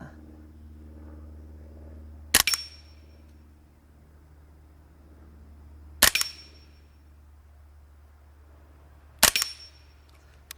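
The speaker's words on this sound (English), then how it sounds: "So what we're going to do right now is we are just going to shoot this target." Suppressed AR22 rifle firing at a target at night: three sharp, muffled cracks a few seconds apart, each followed by a brief metallic clatter, over a quiet outdoor background.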